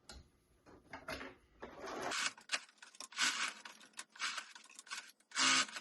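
A sewing machine basts fabric face pieces onto a dog-shaped lovey, running in short, uneven bursts of stitching with brief pauses, close and fairly loud with no talking.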